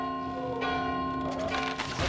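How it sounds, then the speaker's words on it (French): A bell rung in the Valiant Hearts video game, a sustained metallic toll with long ringing overtones, struck again near the end and sounding loud and close. "Et on fait sonner la cloche."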